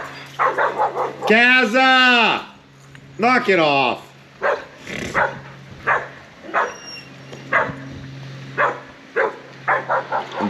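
Several dogs on a farm barking excitedly, with drawn-out howling yips and a string of short, close barks, while a person scolds them.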